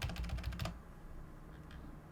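Quick keystrokes on a computer keyboard entering a limit order price, a brisk burst of faint clicks lasting under a second, then quiet room tone with a couple of soft taps.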